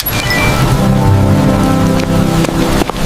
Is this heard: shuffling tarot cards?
no